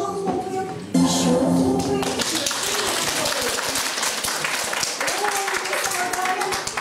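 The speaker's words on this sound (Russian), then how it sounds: "Горячо хлопаем." A roomful of kindergarten children at a New Year party breaks into loud, eager applause after a brief pause, the quick claps continuing over music and voices.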